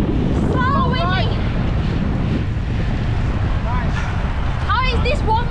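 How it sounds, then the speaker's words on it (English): Strong gusty wind buffets the microphone during a group bike ride at Sydney Olympic Park, a loud constant roar that masks most detail, while a few voices cut through briefly. "And it is very windy."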